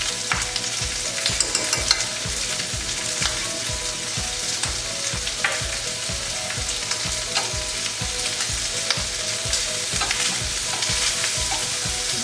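Shrimp sizzle in melted butter in a hot pan, a steady bright frying hiss with a rhythmic stirring or scraping pulse running underneath throughout.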